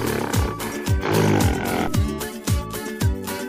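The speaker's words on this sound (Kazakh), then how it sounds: "Горилла." A gorilla gives a rough, roaring call over about three seconds, fairly loud, layered over steady backing music with a regular thumping beat.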